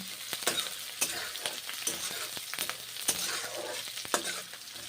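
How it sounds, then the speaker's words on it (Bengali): Onion and garlic fry in oil for a cauliflower-stalk chorchori, with a steady close sizzle broken by irregular scraping clicks from repeated stirring. "ভেজে নিচ্ছি বেশ ভালো করে নেড়ে চেড়ে ভেজে নিচ্ছি পেঁয়াজ রসুন"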